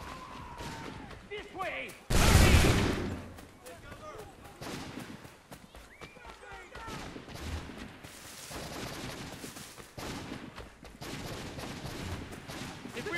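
Battle gunfire from Assassin's Creed 3 with a loud blast near the start, followed by scattered shots and clatter as voices shout commands over the fighting.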